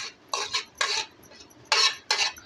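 Spoon scraping and tossing thin poha chivda in a metal pan after the hot tempering is poured over, giving several short, close, rustling clatters in uneven bursts with quiet pauses between.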